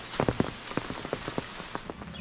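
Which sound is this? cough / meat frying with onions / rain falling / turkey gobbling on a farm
rain falling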